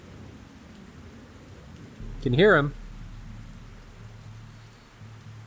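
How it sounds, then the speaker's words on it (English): Steady rain hisses across the whole stretch in the DCS World flight simulator, with a brief burst of a voice talking over it midway. "There's the rain."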